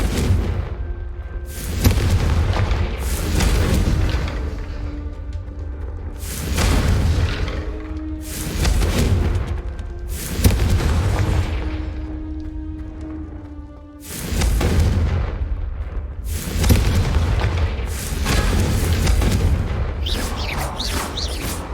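Repeated blasting-spell explosions in the Hogwarts Legacy video game on PS5, a series of heavy booming blasts arriving every few seconds over a constant rumble, with game sound and effects filling the gaps between them.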